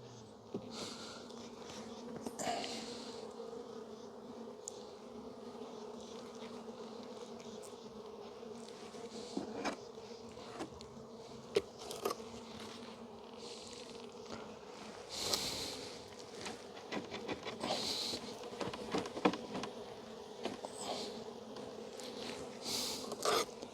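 Honey bees buzz densely around hive frames being inspected, a continuous close drone with individual bees whizzing past the ear, occasional clicks and handling noises, no talking.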